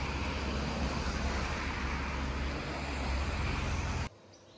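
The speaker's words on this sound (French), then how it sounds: "vous devez pas m'entendre beaucoup vu le bruit de la circulation" Loud, steady roar of street traffic from a busy road, a dense continuous wash of passing vehicles that drops away abruptly near the end.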